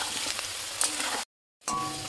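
Potatoes fry in hot oil with a dense, steady sizzle and occasional stirring scrapes, close and loud, cutting out abruptly for a moment before resuming.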